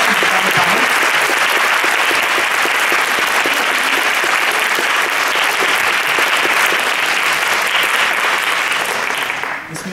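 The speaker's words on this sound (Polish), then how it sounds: "Proszę serdecznie klaskami przywitać naszych gości" Audience at a Sztuka Myślenia discussion event applauds steadily to welcome two guests, a dense, loud, continuous patter of clapping that holds for the whole stretch and only begins to thin at the very end.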